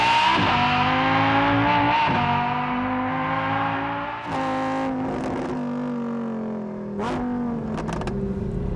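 Lamborghini Huracan Evo supercar with its exhaust baffles open, roaring loudly through sustained revs with rising and falling engine pitch and a few sharp gearshift breaks, close and steady with no talking.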